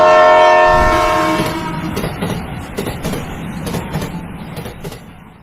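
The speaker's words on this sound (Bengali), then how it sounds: "প্ল্যাটফর্মে ট্রেন আসার সময় সঠিক দূরত্ব বজায় রাখো" A train arrives at a station platform. A loud horn-like tone opens, then fades into rumbling wheels and rhythmic clickety-clack that gradually quietens as it slows, with no talk.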